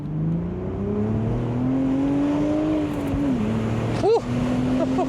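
A 2025 BMW Z4 M40i Pure Impulse Edition with six-speed manual pulls hard in second gear, engine note climbing steadily, then a quick shift blip and the tone dropping before rising again.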